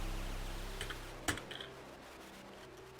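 Close computer keyboard typing while writing Arduino code: a few scattered key clicks, sparse and irregular rather than a steady run, over a low hum.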